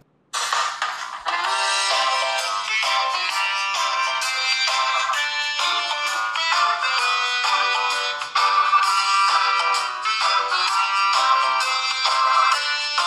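A melodic ringtone plays loudly and continuously from the dual stereo speakers of a Tecno Pova 6 Neo 5G phone, bright and unbroken with no talk over it.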